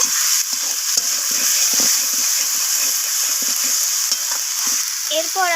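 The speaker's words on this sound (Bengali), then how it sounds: "আলুগুলোকে আমি সমস্ত মশলার সাথে এইভাবে কষিয়ে নিচ্ছি" Fried potatoes stirred with spices in a hot pan, a steady sizzle broken by repeated scraping strokes of a spatula in an uneven rhythm, close and clear.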